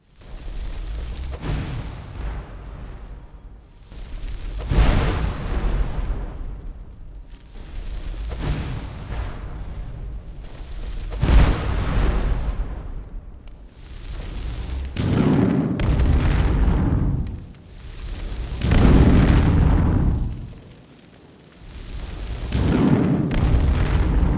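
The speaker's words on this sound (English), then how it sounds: "a firebolt explosion in the distance can be overpowered by a small object near you falling to the ground, when realistically the explosion is much more powerful and should echo across the entire room" Firebolt explosions in Skyrim with the Audio Overhaul mod boom repeatedly, about eight heavy blasts each swelling and then echoing away across an enclosed room.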